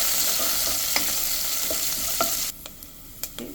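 Dried red chillies and chopped curry leaves fry in hot oil with a bright, steady sizzle and a few spoon taps, then the hiss suddenly drops to a quieter crackle broken by occasional stirring knocks.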